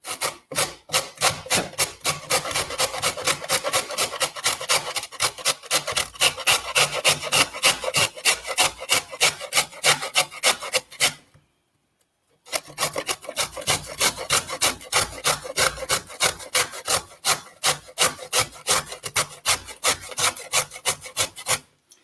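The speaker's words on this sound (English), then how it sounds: "I'm going to grate this now and then put it into a bowl." Celeriac rasped on a hand grater into a bowl, a steady fast back-and-forth scraping that runs loud and close for about eleven seconds, stops briefly, then resumes with the same brisk rhythm.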